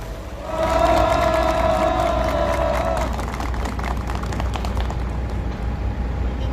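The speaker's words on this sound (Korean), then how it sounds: "동지들의 힘찬 박수함성으로 시작하겠습니다" Rally participants clapping and cheering at an outdoor labor press conference for striking subcontract workers, a sustained crowd roar with a brief sung or shouted tone early on, steady and moderately distant.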